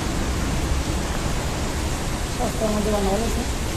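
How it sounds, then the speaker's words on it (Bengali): A water fountain under a city bridge in Qatar rushes as a steady, broad hiss of splashing water, with a brief faint voice rising over it near the end. "ব্রিজের নিচে সুন্দর ঝর্ণা সিস্টেম করছে"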